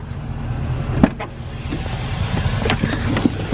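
Inside a van with a rebuilt 4L80 transmission and the doghouse cover off, a loud, rough engine drone rolls on while it drives, with a few sharp knocks and rattles on top.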